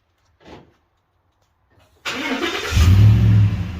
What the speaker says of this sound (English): let's give you a cold start with the Raptor